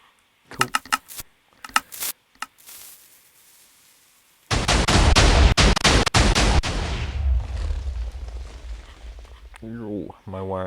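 A raid cannon in a video game blasts base walls: a few sharp bursts, then a long, loud stretch of rapid booming impacts and crumbling debris, with a voice briefly heard near the end.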